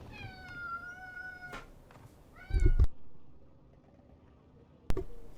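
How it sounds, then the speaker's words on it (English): A pet cat meows loudly several times in a row, rising and falling tonal cries close by, mixed with faint background noise and a sharp thump near the end. "And there's my cat, if you heard."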